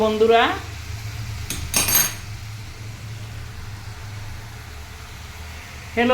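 A pot and metal utensils clatter as cooked red amaranth greens are lifted off the stove, with a couple of bright clanks over a low kitchen hum and a brief voice at the start and end.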